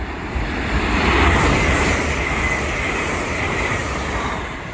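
A Hull Trains Class 802 Paragon roars past at Peterborough on the East Coast Main Line, a loud, steady close rush of wheels and engine noise holding throughout with no voices.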